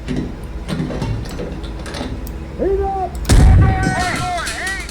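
Tank cannon firing a HEAT round in the PC game Gunner HEAT PC, a loud low boom about two-thirds through that rises out of rumbling engine and mechanical noise, followed by whistling electronic tones.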